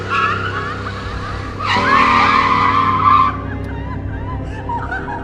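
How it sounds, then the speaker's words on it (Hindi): A car brakes suddenly and its tires skid with a harsh squeal of about a second and a half over a steady engine hum, then the squeal stops and the engine idles on. "वह अचानक ही यह देखते हुए गाड़ी को रोक देता है"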